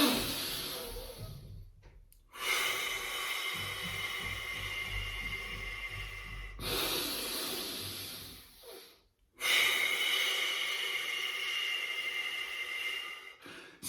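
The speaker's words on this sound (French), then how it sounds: "prends le temps de respirer à raison de 6 cycles par minute, c'est-à-dire une respiration toutes les 10 secondes" Slow, deep breathing paced at about six breaths per minute, with long, airy inhales and exhales separated by brief pauses, close and breathy, with no talking.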